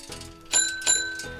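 Two bright metallic rings from a bicycle bell, each a quick sharp ding with a lingering tone, over a soft tuned background.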